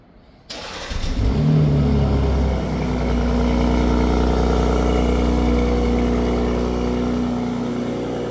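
A 2026 BMW M440i xDrive Gran Coupe Exclusive Edition starts up from silence with a sharp exhaust bark and rev flare, then settles into a loud, steady idle rumble heard from the rear.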